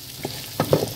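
Food sautéed in a pan in a home kitchen gives a brief sizzle with a few soft stirring scrapes, close by and without voices.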